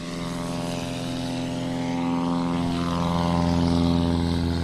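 Cessna 182 propeller airplane taking off in a touring-class STOL competition, a loud steady engine and propeller drone that swells in pitch and power as it accelerates, close by with no talk.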